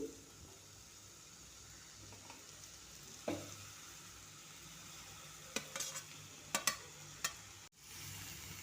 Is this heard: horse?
no